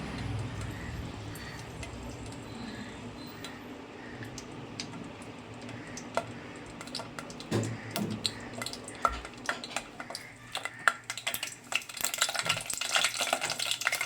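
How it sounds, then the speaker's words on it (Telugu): Green chillies frying in hot oil for a fish curry, a steady close sizzle and crackle with stirring and scattered clicks of a utensil against the pan that grow busier and more sputtery toward the end. "ఇప్పుడు ఫస్ట్ మనం పచ్చిమిర్చి వేసేసుకోవాలి. ఆయిల్ కొంచెం హీట్ అవ్వాలి."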